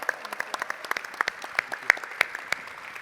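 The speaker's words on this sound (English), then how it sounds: "Could we give a round of applause to State Representative Malcolm Kenyatta, State Senator Lindsey Williams," Sparse, scattered clapping from a small group greets state representatives at a keynote, with a few distinct claps spaced irregularly over about three seconds, faint and close.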